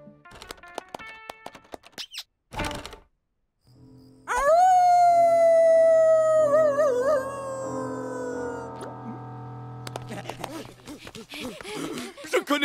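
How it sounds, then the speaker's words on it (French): A cartoon werewolf dog lets out a long, loud, wavering howl that rises and holds before fading, set against a musical score with scattered sound effects before and after. "Je connais ce hurlement."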